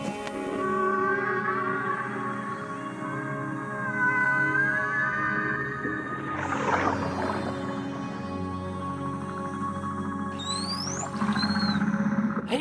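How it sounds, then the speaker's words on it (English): Blue whale song, an underwater setting with long, slowly gliding tonal moans and sweeping upper calls, steady and fairly loud, unaccompanied by talk, over a low rumbling undersea background. "That is the song of the blue whale that you're listening to."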